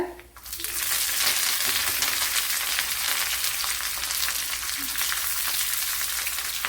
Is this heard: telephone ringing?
no